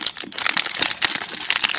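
LOL Surprise blind bag packaging being cut and torn open up close, producing dense crinkling plastic and rustling bursts with no talking.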